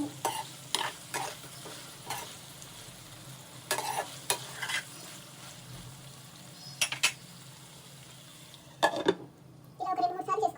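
Eggplant pieces cooking with masala paste in a pan on medium flame, a soft sizzle under repeated scraping and stirring strokes, with faint talk in the background.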